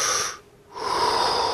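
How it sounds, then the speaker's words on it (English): A person takes one close, audible breath in, pauses briefly, then lets out a longer breath, with no talking. "I am breathing."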